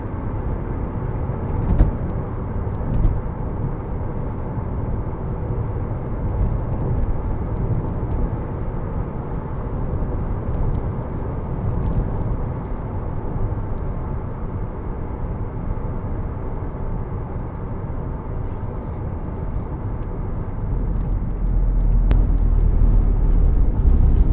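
Road noise fills the cabin of a 2003 Alfa Romeo GTV 2.0 Twin Spark 16v on the move, a steady loud broadband rumble that builds slightly toward the end, with no talk.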